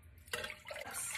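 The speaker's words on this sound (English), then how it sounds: "In a pot, 3 cups of water." Water splashes into a cooking pot, a short faint pouring burst that pauses briefly and resumes before cutting off.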